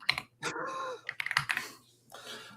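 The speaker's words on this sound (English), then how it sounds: "I hear typing." Keyboard typing in short irregular bursts of clicks, fairly close, with a brief voice-like sound between bursts.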